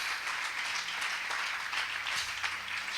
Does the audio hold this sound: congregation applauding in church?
yes